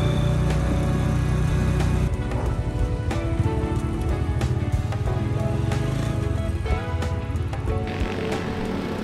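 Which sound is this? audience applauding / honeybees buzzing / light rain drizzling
light rain drizzling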